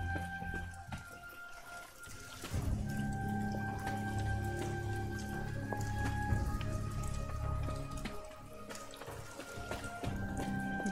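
Rain falling in Midnight Suns, steady soft patter and drips under a low ambient hum and tonal game background, moderately quiet throughout.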